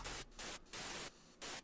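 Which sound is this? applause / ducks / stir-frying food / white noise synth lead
white noise synth lead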